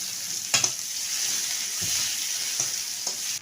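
Onion frying in oil with five-spice, a loud continuous sizzle up close, punctuated by a few clacks and scrapes of a spatula stirring the pan.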